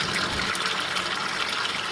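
Fresh water gushing steadily over Mitsubishi Sigma seat covers being rinsed, a continuous broadband hiss and splash, close and fairly loud, with no speech.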